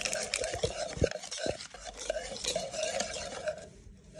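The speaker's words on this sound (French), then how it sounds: "nous on a du sucre vanillé et on va venir mélanger" Vanilla sugar being mixed into Japanese pancake batter in a bowl, quick close whisking and scraping strokes with a couple of sharper knocks, fading near the end.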